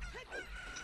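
A chicken clucks in Zelda: Ocarina of Time, a short run of bright, honking fowl calls heard up close with no talk over it.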